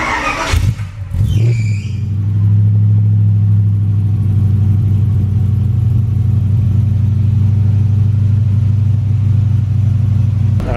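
An MGB GT fitted with a 4.0-litre V8 and custom exhaust idles outdoors after a brief burst of startup noise, settling into a steady, deep, loud burbling rumble that stays even for about ten seconds with no talking.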